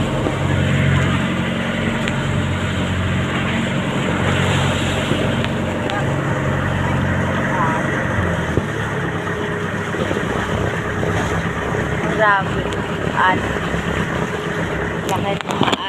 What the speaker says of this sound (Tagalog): Laki ng mga alon ngayon.